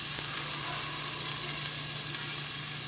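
Onions frying in a pot alongside meatball sauce ingredients, giving a steady, close sizzle with constant crackling and a soft hum underneath, with no talking.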